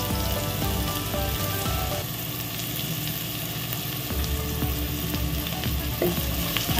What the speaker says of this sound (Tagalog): hayaan natin mag-brown ng konti ang ating luya